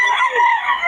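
A loud, close chicken call, drawn out and wavering like a rooster's crow, lasting under a second.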